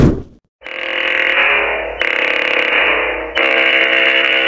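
An emergency alert system alarm tone from another country, a loud, buzzy, harmonically rich electronic drone in three long blasts with brief breaks between them, heard alone.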